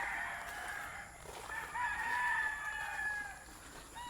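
A rooster crows at a chicken coop, a single drawn-out call rising and falling, fairly faint and heard alone with no talk.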